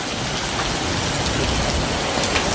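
Heavy rain pours down in a dense, steady, close hiss of drops on surfaces, unbroken throughout with no voices.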